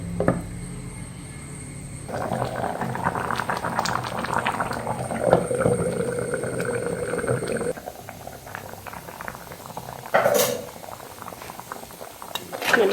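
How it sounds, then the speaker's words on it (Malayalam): Fish curry bubbling in a pot on the stove: a steady, close simmering burble that carries on throughout, with a faint low voice in the background for part of it. "മീൻ നന്നായിട്ടൊന്ന് തിളച്ച് വന്നിട്ടുണ്ട്."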